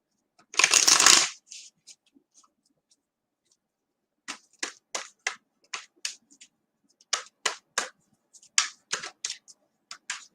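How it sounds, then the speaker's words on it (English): Tarot reading cards shuffled close by: one loud riffling burst at the start, then a long run of short, crisp card snaps and slaps in an uneven rhythm with no talking. "we're going to draw some cards"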